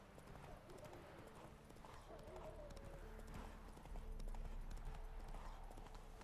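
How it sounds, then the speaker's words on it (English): Horse galloping in The Witcher video game, a quick steady clip-clop of hooves across the ground with an occasional whinny, heard under talking. "Run, Roach"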